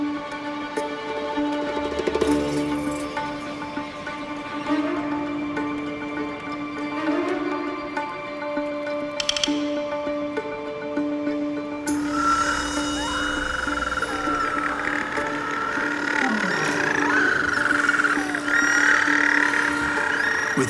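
At night in Tasmania, adults return to a nesting colony of hundreds of nests, raising a dense chorus of overlapping calls that grows louder and busier in the second half.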